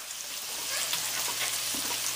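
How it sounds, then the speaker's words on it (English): Garlic sizzles and fries steadily in a pan of olive oil, a continuous close, moderately loud crackle with slight stirring movement. "So we've got the garlic going now."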